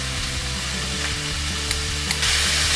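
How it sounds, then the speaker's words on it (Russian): Steady sizzling of chicken and vegetables frying in a pan, a dense crackling hiss with occasional stirring clicks, close and continuous with no talking. "отправляем нашу курицу и овощи обжариться до золотистой корочки"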